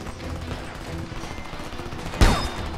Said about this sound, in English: Shot a dead man.